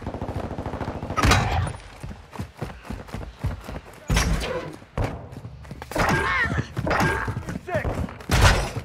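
Gunfire in the video game Modern Warfare 2 during a prisoner rescue mission, with sharp bursts and thuds scattered across a busy battle mix while voices talk over the action.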